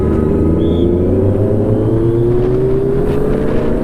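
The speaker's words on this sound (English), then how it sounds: "Just hear the exhaust note again." A Kawasaki Z900 superbike's exhaust roars loud and close, holding a steady, heavy drone whose pitch climbs gradually as the engine revs.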